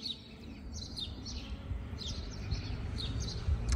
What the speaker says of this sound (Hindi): ये चिड़िया की आवाज़ और सब कुछ